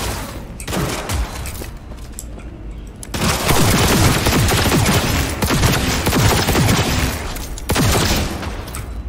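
Dense automatic gunfire from a firefight in Cyberpunk 2077 rattles continuously at close range, with a quieter lead-in before sustained loud bursts that fill most of the stretch.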